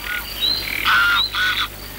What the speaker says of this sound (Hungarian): szárán leveli béka napozik